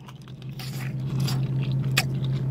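Hard, crunchy bites and scraping chews into candy-coated pineapple, close to the mic, with a few sharp cracks over a low steady hum.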